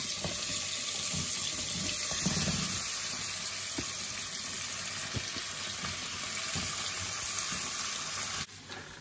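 Hot water poured into a bowl that held chicken feet while making curried chicken foot, a steady splashing, running-water stream close by and alone for the whole stretch, ending abruptly near the finish.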